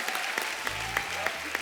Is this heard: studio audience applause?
yes